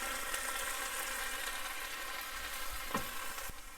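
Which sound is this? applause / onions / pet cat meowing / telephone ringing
onions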